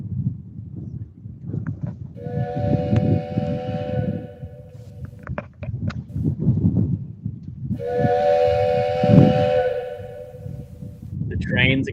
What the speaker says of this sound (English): The trains are coming.